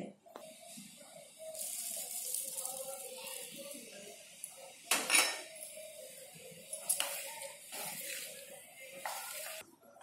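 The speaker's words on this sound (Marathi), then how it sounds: "हे आपल्याला सर्व साहित्य आहे ना हे सगळं मिक्स करून घ्यायचं आहे." Handvo batter ingredients being mixed in a bowl for the Gujarati vegetable cake, giving close, continuous wet scraping and swishing with a few sharper clinks of spoon against the bowl and brief speech-like sounds mixed in.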